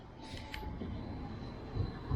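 Inside a moving tram, a steady low rumble and rattle carries on without a break, with faint higher whines now and then.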